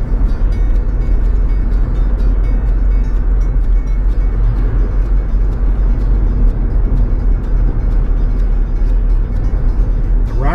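Jeep rolling along back roads between Pigeon Forge and Sevierville, Tennessee, a steady loud engine drone and road rumble heard from inside the vehicle, with no talking.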